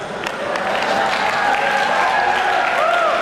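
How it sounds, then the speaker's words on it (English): A school hall audience at a secondary graduation ceremony claps for the arriving MCs, a dense, continuous burst of applause from a large crowd with faint voices mixed in. "give them a round of applause"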